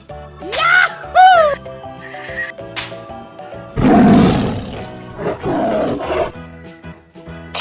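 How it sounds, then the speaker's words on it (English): A tiger roars loudly and close in a deep, rasping burst, mixed among other animal calls and bright tonal sounds. "Tiger cub."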